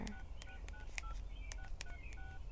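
A phone number is keyed into a mobile phone, a quick irregular run of about a dozen short tonal beeps, close and fairly quiet, with no voices.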